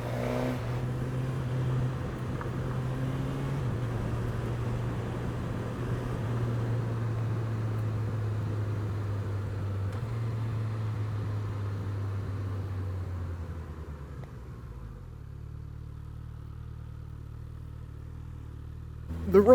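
A 2021 Suzuki GSX-S1000 motorcycle cruises steadily on an open road with a sustained engine drone and wind rush, its pitch easing down as it slows near the end.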